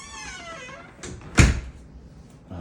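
A new weatherproof front door with an automatic lock swings shut with one solid thud, preceded by soft sliding and handling noises.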